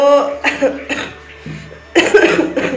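A few short, harsh coughs come close to the mic in two bursts, with a brief quiet gap between them.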